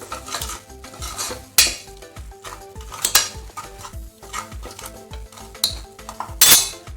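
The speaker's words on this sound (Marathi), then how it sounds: "थोडीशी हळद घालायची आणि चवीनुसार मीठ टाकायचं मिक्स करून घ्यायचं" Turmeric and salt being stirred into aubergine curry in a pan, with repeated loud metal spoon scrapes and clinks against the vessel over a light sizzle, no voices.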